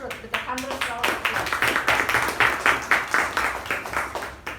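A room of Toastmasters meeting guests claps steadily for several seconds to welcome a speaker, a dense even patter of many hands rising quickly after a brief lead-in.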